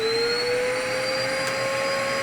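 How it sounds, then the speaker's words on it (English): A central vacuum unit runs steadily after being switched on, a loud continuous motor whine and airflow roar with a constant tone, holding an even level throughout with no talk. "Go ahead and flip that switch on and it should kick the vacuum on."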